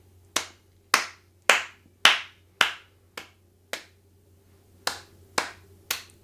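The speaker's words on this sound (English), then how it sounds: "maybe we could clap it." Single claps beat out the rhythm of a children's piano piece, about ten crisp, close hand claps in an uneven pattern with a pause in the middle, in a quiet room without talking.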